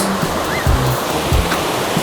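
Strong, fast-flowing water of the Buga River in Hindang, Leyte rushes in a loud, steady broadband roar, with a few low thumps from handling breaking through close by.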